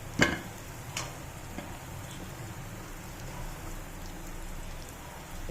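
Onions fry in oil in a pan while cooking dahi tikhari, giving a steady, soft sizzle and crackle throughout with a sharper clatter near the start and no talking.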